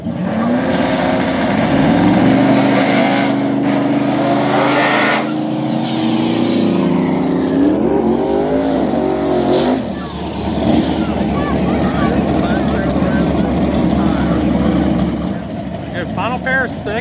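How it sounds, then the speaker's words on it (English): Twin-turbo Chevrolet Nova and a rival small-tire drag car race down an Ohio strip, a loud continuous engine roar with rising pitch sweeps as they accelerate away, a commentator talking over it throughout. "Twin Turbo Nova taking on Hustling Horsepower Nick Buniak."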